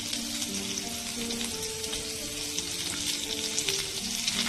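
Coconut and washed tamarind sautéing together in a pan for a pirandai thokku, a steady broadband sizzle with faint stirring scrapes, close and continuous with no voices.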